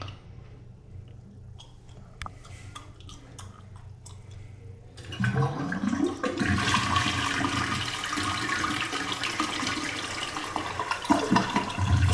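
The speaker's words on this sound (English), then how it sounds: "let me flush the toilet one more time just to make sure that it's working" A household toilet flushes after being cleared with a SurePlunge CO2 automatic plunger. A few faint clicks come first, then a loud rushing swirl of water that fills the rest of the stretch.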